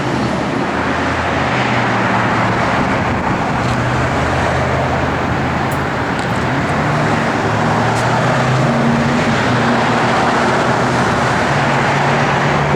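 A 1966 Ford Mustang coupe being driven, a continuous loud broadband road and engine rumble with wind noise, steady throughout and heard from close by, no voices.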